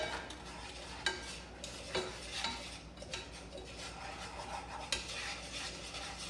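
Italian seasoning mix being stirred into melted butter in a pan, with a soft continuous sizzle and repeated spoon scrapes and taps against the cookware, fairly quiet and close.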